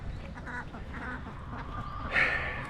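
Ducks kept in a small house quack in a loose cluster, a louder burst of calls rising near the end over a steady rainy background wash.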